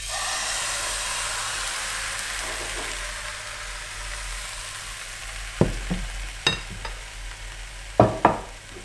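Crêpes fry in an oiled pan on a stove at its highest setting, giving a steady broad sizzle, broken near the end by a few sharp clacks and taps of a ladle or utensil against the pan.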